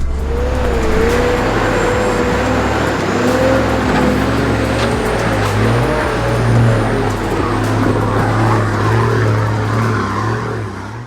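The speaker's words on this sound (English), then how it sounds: "I absolutely love driving these GQs patrols of these sort of tracks" A Nissan GQ Patrol 4WD engine labours steadily up a steep muddy track in torrential rain, a loud continuous low drone with shifting revs and no voices.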